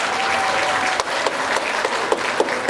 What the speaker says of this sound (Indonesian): Tepuk tangan dulu untuk Bank Mandiri.